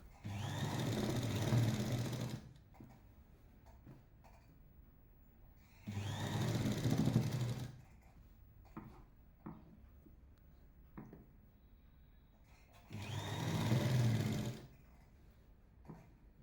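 A sewing machine stitches elastic into the edge of dhoti-style salwar pants, running in three loud bursts of a few seconds each with quiet pauses and small handling clicks between them.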